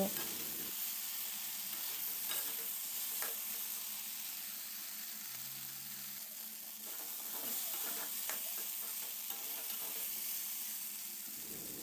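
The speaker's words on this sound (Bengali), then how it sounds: "আবারও খুন্তির সাহায্যে ভালোভাবে নেড়েচেড়ে মিশিয়ে নেওয়ার পর আর একটু কষিয়ে নেব" Vegetables and fried lentil bori for a mustard-flower shukto being stir-fried with a metal spatula in a pan, a steady sizzle with scraping strokes throughout, close and alone.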